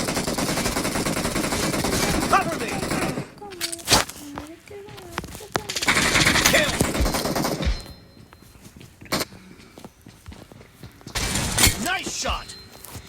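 Gunfire in a PUBG match comes in loud bursts of rapid shots and sharp cracks, separated by quieter gaps with scattered single shots and game noise.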